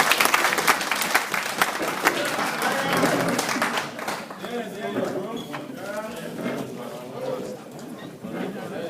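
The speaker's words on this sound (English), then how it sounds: "let us give ourselves a round of applause" An audience at an Mbaise USA gathering applauds itself, loud dense clapping that gradually thins and fades as voices and crowd chatter take over.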